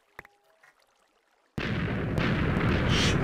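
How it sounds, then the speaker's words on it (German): A Creeper explodes underwater in the video game Minecraft, a sudden heavy muffled blast after a quiet moment, followed by a sustained loud rushing roar to the end. "Also die Creeper-Explosionen unter Wasser."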